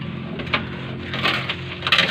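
A hammer drops and strikes wood, making a few short knocking thuds with a louder clatter near the end, heard over steady background noise.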